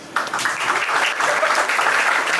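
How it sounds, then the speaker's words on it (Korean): An audience at an MSI laptop launch event breaks into sustained, dense clapping that starts abruptly and holds at a steady level throughout. "박수 한번 주셔요."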